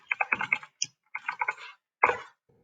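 Someone taps out a short entry on a computer keyboard in a few quick bursts of crisp key clicks, close and clear in a quiet room.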